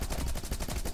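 Rapid gunfire from the video game Rocketbirds: Hardboiled Chicken, a dense stream of loud repeated shots filling the whole second with no talk over it.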